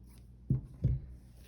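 Two quick, soft snips of scissors clipping across a fabric seam allowance while sewing McCall's 7291, close and separated by a short pause in an otherwise quiet room.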